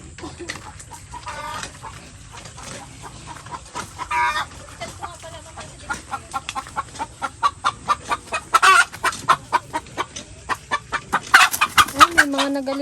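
Hens and a rooster on a Filipino farm cluck in a busy, irregular run of short calls, growing denser and louder toward the end, with a few louder squawks and someone talking faintly underneath.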